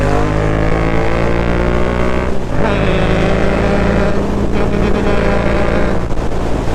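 A Yamaha MT-07 motorcycle roars loud and close under throttle as the rider rolls on the gas, its engine note shifting in pitch and briefly dipping partway through, over heavy wind rush, with no talking.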